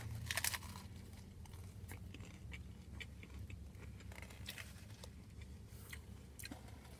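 Doritos Locos Tacos eaten in a parked car, with crisp crunching bites and quiet chewing close by, repeated at irregular intervals over a faint background hum.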